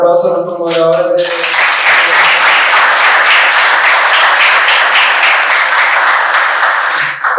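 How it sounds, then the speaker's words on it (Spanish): Loud, sustained audience applause fills the hall after a speaker's announcement at an event, dense clapping continuing evenly for several seconds. "Pido por favor un gran aplauso a nuestros moderadores"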